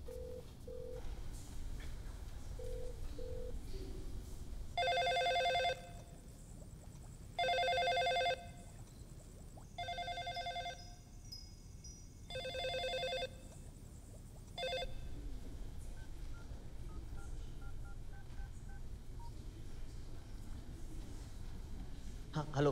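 In a film scene, a telephone rings unanswered in several regular double-burst rings with gaps between them, clearly heard over a low background hum, followed by quieter beeping.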